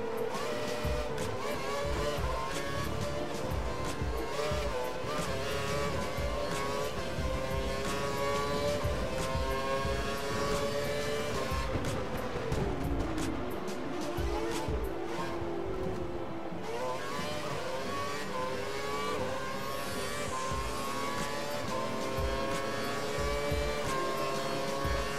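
Formula One race car engines in the video game F1 2012 drone and whine continuously at high revs, with several cars blending into one steady, loud roar that rises and falls slightly throughout, with no voices.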